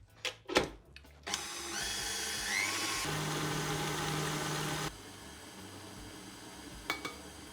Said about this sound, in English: You can beat these together using a bowl and a hand whisk, or you can use a stand mixer.